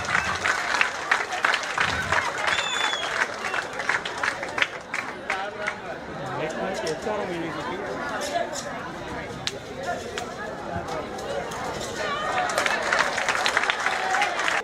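Large crowd at a Thoothukudi sports match clapping and cheering continuously, a dense, steady roar of applause and voices throughout, with babble and shouts mixed in.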